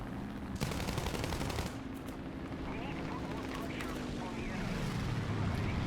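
Aircraft machine guns rattle in rapid bursts during a War Thunder air arcade dogfight, layered over a steady engine drone that bends in pitch as the plane dives.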